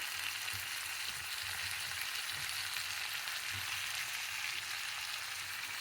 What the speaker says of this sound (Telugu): ఇది కొద్దిగా వేగనివ్వాలండి.